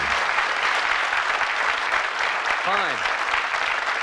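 Warm studio audience applause on a 1982 Bullseye darts game show, a dense sustained wash of clapping from start to finish, with a voice briefly speaking over it near the end.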